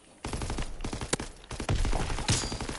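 Rapid bursts of gunfire in the World War II shooter game Call of Duty: World War II, loud and dense with overlapping shots and sharp single cracks throughout, with no talk.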